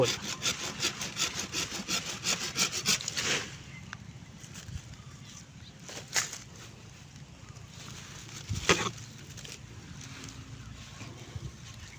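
Rhythmic hand sawing through an avocado stem for about three seconds, then quieter rubbing and a few scattered knocks and scrapes close by.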